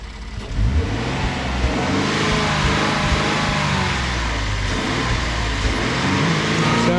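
A 2013 Ford F-150 with the 3.5L EcoBoost V6, freshly fitted with new coil packs, revving loud and close in a steady rising and falling engine roar, with no talking over it.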